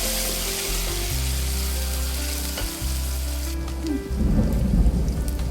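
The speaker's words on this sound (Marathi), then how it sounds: "बाहेर इजा कडकडत आहेत जोरदार पावसाळा चालू झालेला आहे" Heavy monsoon rain and thunder outside during indoor cooking: a deep, rolling low rumble holds for several seconds, then a louder wash of rain noise swells at the end.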